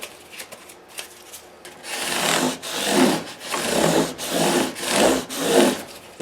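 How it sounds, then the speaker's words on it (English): Emery cloth scrubbed full length along the frets of a Gibson guitar after 600-grit sandpaper, heard as steady rhythmic rasping strokes, about five back-and-forth passes, close and fairly loud, with no talking. "Now I follow up that 600 grit with emery cloth. So now we're going full length."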